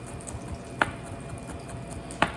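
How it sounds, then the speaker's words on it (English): Two sharp knife taps on a cutting board while chopping garlic, spaced apart, over a quiet background of faint kitchen noise. "So just chopping the garlic up."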